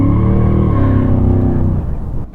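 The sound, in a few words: Chevrolet Camaro car driving by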